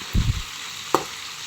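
Chicken adobo cooking in a little oil in a pan gives a steady, faint sizzle and crackle, with a couple of low knocks early on and a single sharp tick partway through.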